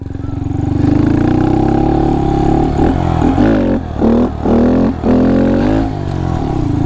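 A Honda Monkey motorcycle engine revs hard and close during a wheelie on a rocky trail, a loud sustained drone that rises, then breaks into several choppy throttle blips near the end.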